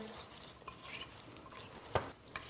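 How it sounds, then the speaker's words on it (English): Salad dressing ingredients are whisked in a bowl, giving soft swishing stirs, with a couple of sharp utensil clinks against the bowl near the end. "we're going to go ahead and just kind of whisk our dressing ingredients together"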